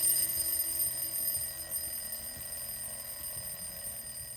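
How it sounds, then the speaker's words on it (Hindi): An alarm clock rings with a steady high-pitched electronic tone, faint and continuous throughout, with no voices. "पानी का समय अलार्म बज चुका है"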